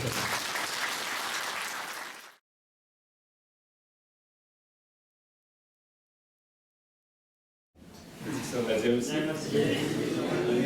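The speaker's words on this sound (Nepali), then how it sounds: "हामी ताली बजाएर धन्यवाद दिन्छौँ।" A church congregation at a New Year service claps in thanks, a dense burst of applause fading out, then a long silence before clapping and voices return together.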